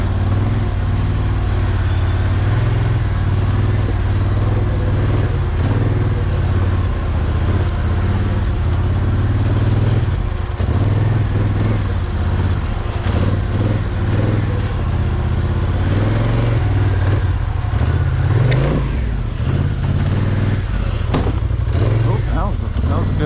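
A Polaris Scrambler 1000 ATV engine drones steadily and loud throughout, its pitch rising and falling as the machine labors over a rocky rock garden at Cross Bar Ranch, with clunks and scrapes from the terrain.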